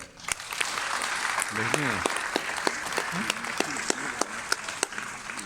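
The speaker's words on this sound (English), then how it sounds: "can we give him a massive round of applause?" Dense, steady applause from a crowd at the end of a talk fills the whole stretch, with a few sharper claps standing out and a brief voice heard underneath.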